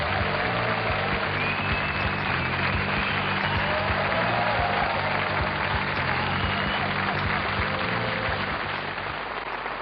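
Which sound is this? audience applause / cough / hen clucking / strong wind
audience applause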